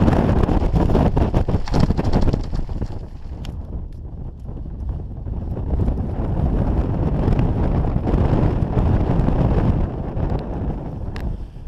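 Strong wind roars steadily across the microphone on a Lake District fell near Blencathra, a loud continuous buffeting rush with gusts that swell and ease.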